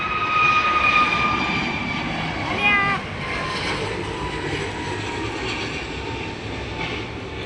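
Airplane engine roaring on the runway at Ahmedabad airport, a loud steady jet rumble with a whining tone early on, heard from nearby with faint voices underneath.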